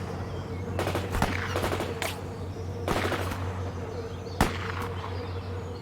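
Gunfire in the real-time strategy game World in Conflict: several sharp, separated shots and short rattling bursts over a steady humming battlefield drone, with a distinct crack near the end.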